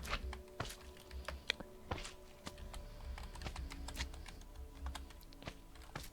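Keys clack on a computer keyboard as a Minecraft give command is typed, a steady run of close, crisp taps lasting several seconds with no voices over it.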